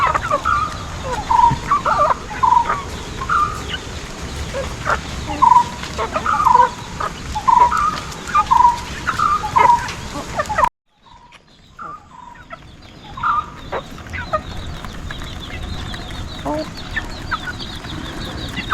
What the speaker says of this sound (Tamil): இதான் நம்மளோட கடக்நாத் சேவல்